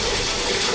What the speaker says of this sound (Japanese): これをこういう風にちょっと水入れながら、ちょっとこんな感じで泡立てる